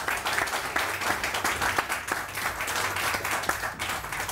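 A TV studio audience on a morning talk show applauds with dense, steady clapping throughout, loud and close.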